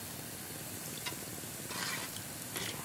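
Qata egg dough balls frying in hot oil while being stirred, a steady soft sizzle with light scraping stir noises, fairly quiet and continuous with no talking.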